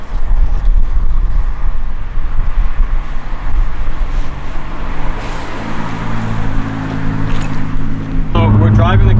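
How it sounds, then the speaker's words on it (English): Car driving along with heavy wind buffeting and road roar filling the cabin, loud and steady throughout, a low engine note rising near the end, with people talking inside. "So we're driving the car, we're going the wrong way"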